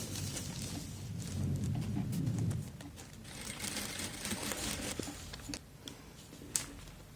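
A sewing machine stitching quilt fabric runs quietly for a few seconds under soft broadband room noise, then fades into faint handling sounds and a few light clicks.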